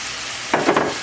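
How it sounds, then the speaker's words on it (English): Half-cooked white rice dumped into a pan for stuffed pepper filling and stirred in, a brief scraping, rustling burst after a quiet hiss, close and short. "You're going to dump the rice in just to mix that in."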